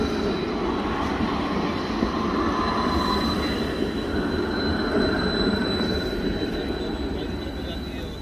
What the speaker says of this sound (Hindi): ये ट्रेन मुख्तलिफ सिटीज़ में जाने के लिए तैयार खड़ी हैं।